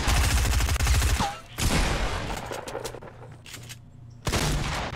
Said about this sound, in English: let's use the shotgun